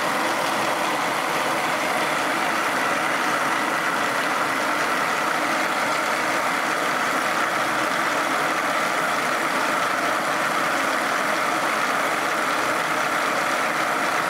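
Rollers of a Searl effect generator, driven by electromagnets, spinning at roughly 150 to 180 RPM give off a steady, unbroken whirring hum that stays at an even loudness throughout, with no talking.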